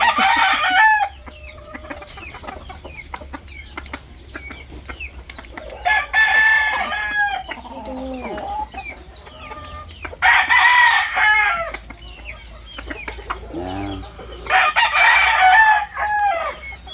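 Fighting cocks (gamecocks) on a farm crow in three loud, separate bursts spaced a few seconds apart, with clucking and low voices in the gaps between calls.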